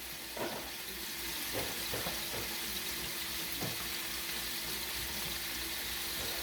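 Seafood risotto being stirred in a pan as basil chiffonade is folded in, with a steady close sizzle and a few soft scraping strokes of the spoon.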